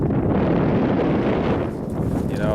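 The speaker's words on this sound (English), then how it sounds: "it's real windy" Strong wind blowing outdoors along a trapline, a loud, dense rumble battering the microphone without letup, with a brief faint voice-like trace near the end.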